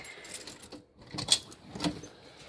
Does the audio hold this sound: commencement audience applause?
no